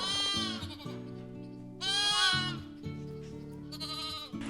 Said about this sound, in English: Like Vicky's surrounded by sheep, like she's Heidi or something.